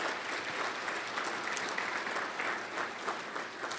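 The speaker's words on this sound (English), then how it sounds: "give them a big round of applause right here" Steady audience applause at an evening lecture-series event, a dense, even patter of many hands clapping throughout, moderately loud and without voices rising above it.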